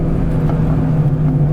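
A 2004 Ford Mustang Cobra engine runs with a steady low droning hum from inside the moving car, loud and continuous with no talk.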